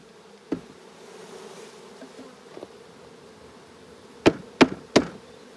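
Honey bees hum softly around a fully capped outer hive frame during a honey harvest, a faint steady drone broken by three sharp knocks or taps near the end.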